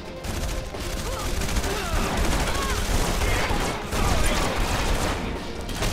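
Video game gunfire in Red Faction Guerrilla crackles in a dense, continuous fusillade of rapid shots and explosions, loud and chaotic throughout.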